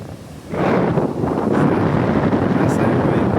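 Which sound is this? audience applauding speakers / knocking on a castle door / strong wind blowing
strong wind blowing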